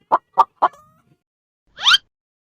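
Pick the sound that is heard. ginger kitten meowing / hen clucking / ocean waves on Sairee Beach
hen clucking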